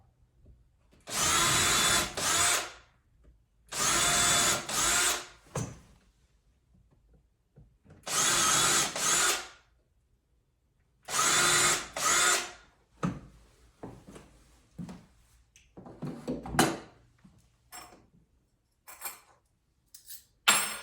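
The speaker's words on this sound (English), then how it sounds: "I'm going to go ahead and drill a couple of holes right at the spot." Four loud bursts of a power drill boring holes for window shade brackets, each lasting a second or two, separated by pauses, followed by lighter scraping and handling noises.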